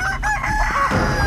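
Close, loud chicken calls in a run of clucks and drawn-out squawks with a crowing quality, over rough handling noise near the bird.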